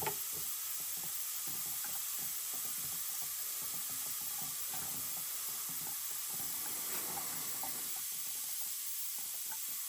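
Steam hisses steadily from a pressure canner holding rabbit, a continuous bright sizzle with faint intermittent clicks underneath, no voices.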